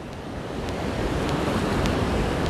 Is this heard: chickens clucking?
no